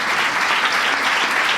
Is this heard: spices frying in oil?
no